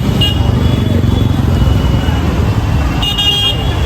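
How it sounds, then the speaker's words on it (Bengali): Busy, jammed city road at night on the way to Howrah station, a loud continuous rumble of traffic and engines with a brief horn toot near the start and another near the end. "প্রচুর পরিমাণে ভিড়, প্রচুর পরিমাণে জ্যাম এখন রাস্তায়"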